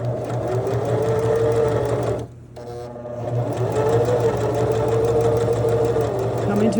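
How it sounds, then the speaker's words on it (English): A sewing machine stitches a side seam with a close, steady mechanical whir, pausing briefly for a moment before starting again and running evenly to the end. "And then I'm going to keep sewing."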